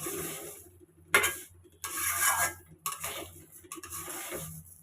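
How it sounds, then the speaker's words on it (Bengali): Rice frying in a pot for biryani is stirred in a few separate bursts of scraping and rustling, fairly close and moderately loud, with short quiet gaps between the strokes. "চালটা এখন ভেজে নেব"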